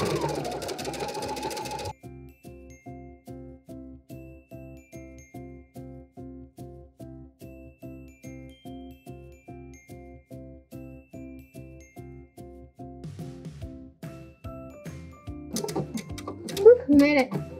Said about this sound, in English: Make sure your fabric is nice and flat as you're sewing as well.